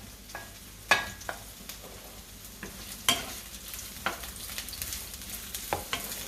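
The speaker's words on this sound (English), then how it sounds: "Let's add the onions." Onions frying in a pan for fish soup, a quiet steady sizzle broken by occasional spoon scrapes and clicks, fairly faint.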